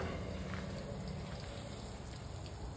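Steady hiss of water spraying and rinsing over a car body panel, continuous and close, with no talk.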